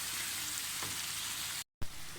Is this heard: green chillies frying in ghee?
yes